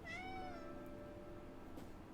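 A pet cat named Gila gives one clear, drawn-out meow close up, then falls quiet with faint room noise and no talking.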